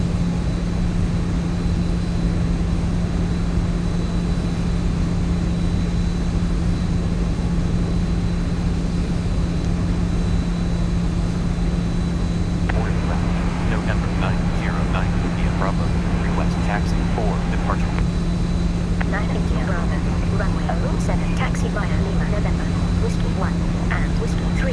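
A steady roar of airliner engines as the aircraft takes off in the X-Plane 12 flight simulator with the Zibo mod, a constant loud drone with a speaking voice over it.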